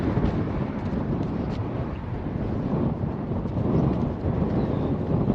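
Strong wind gusting outdoors, a constant broad roar buffeting the microphone across the whole stretch with no talk.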